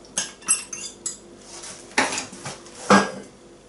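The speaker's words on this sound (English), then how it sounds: "Okay, so I'm mixing all that up now" Banana bread batter with berries mixed in a bowl, a handful of sharp utensil knocks and scrapes against the bowl in short bursts, close and alone.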